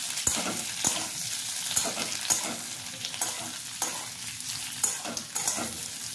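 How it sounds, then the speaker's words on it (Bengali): Potato and onion are stirred and fried in a pan, with a continuous crackling sizzle broken by repeated sharp scrapes and knocks of the spatula, close and fairly loud, with no talking. "আলু পেঁয়াজটা নাড়াচাড়া করে একটু বেশ ভালো করে ভাজা ভাজা করে নিতে হবে।"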